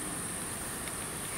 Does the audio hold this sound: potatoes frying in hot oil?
no